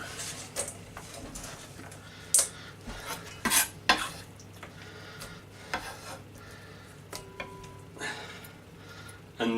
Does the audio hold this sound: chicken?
yes